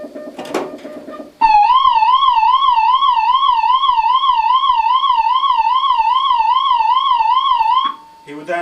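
A national attack warning red siren wails loudly and alone in a rapid, steady warble for about six seconds, with brief talk just before and after.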